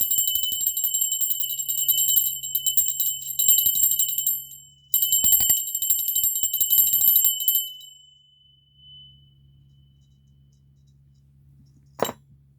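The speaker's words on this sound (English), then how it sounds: "I'm going to ring this bell real quick." A hand bell rings bright and high for about eight seconds in quick repeated strokes, pauses, then resumes, with a faint low hum underneath. A single sharp click sounds near the end.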